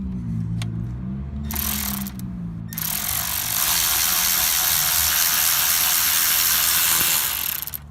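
A ratchet wrench loosening the AC compressor nut on a 2003-2007 Honda Accord. A few sharp clicks come first, then a long, loud, steady rasping stretch of fast ratcheting, close by.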